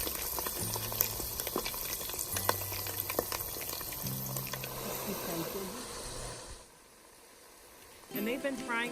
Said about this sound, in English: now we're gonna fry our eggplants. With the onions and the bread